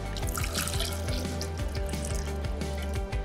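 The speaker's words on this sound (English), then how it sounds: "We're going to pour the water." Measured water poured into a container for an alcohol-and-water separation demonstration, a steady trickling and dripping stream over a continuous background with repeated low thumps, no talking.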